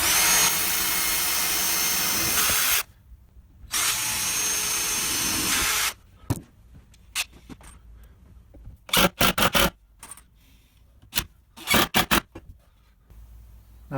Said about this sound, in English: I'm just going to drill some pilot holes and then drive some screws in.